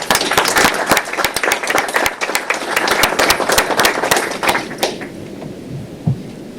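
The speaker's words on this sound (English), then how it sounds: "Let's give Julie another round of applause." Audience at a county commissioners meeting applauds an honored employee, with sharp, fairly close individual claps from a modest group that thin out and stop near the end, leaving a quiet room.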